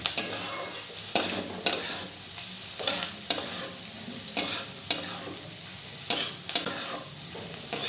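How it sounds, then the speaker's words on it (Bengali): Vegetables with a little turmeric frying in a pan for a flattened-rice pulao, a steady sizzle broken by regular scraping strokes of a spoon stirring, close and fairly loud, with no talking. "সবজিগুলোকে আমি আরেকটু ভাজা ভাজা করব।"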